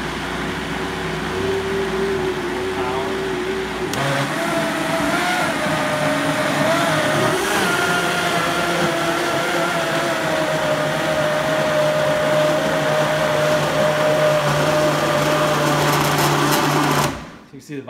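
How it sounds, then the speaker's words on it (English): A Vitamix blender runs hard on organic vegetable juice, a loud sustained motor whine that holds steady and then cuts off abruptly near the end. "See, the Vitamix is going to work pretty hard here."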